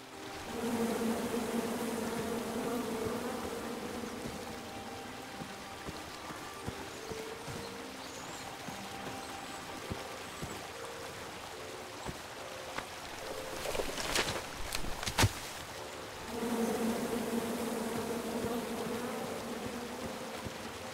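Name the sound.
bees buzzing in the King's Quest video game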